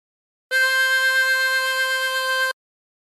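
A single sustained harmonica note blown on hole 4, steady and clear for about two seconds, reedy and bright with no talk over it.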